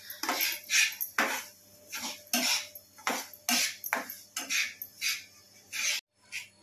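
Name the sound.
semolina (rava) being roasted and stirred in a pan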